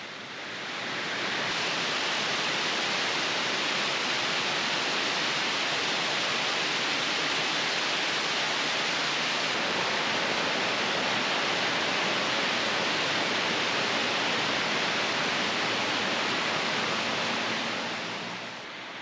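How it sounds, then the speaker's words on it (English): Roaring waterfall in Cascadilla Gorge, Ithaca, heard up close as a loud, unbroken rushing wash of falling water that fades in and holds steady throughout, with no voices. "other times it's this roar when we get up close to the falls"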